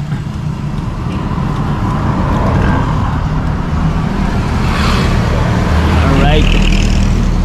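Heavy road traffic rumbles steadily throughout, a dense wash of car and bus engines close by with a voice talking over it.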